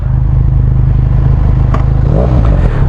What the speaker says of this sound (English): It's a nice sounding motorcycle though.